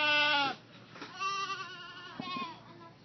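Baby goats and adults in a farm pen give a loud bleat at the start, followed by softer, wavering bleats close by.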